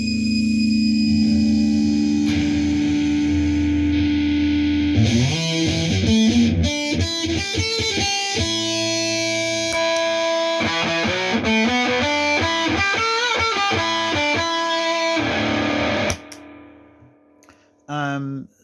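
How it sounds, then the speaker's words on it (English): An electric guitar runs through a Shin Ei/Univox Superfuzz octave fuzz pedal, played high on the neck with the tone roller. It gives loud, buzzy, octave-doubled synth-like tones: a sustained note, then a busy run of notes, and a brief stab after a pause. "if you play high on the neck with the tone roller, you can get kind of like octavey synthy sounds like this"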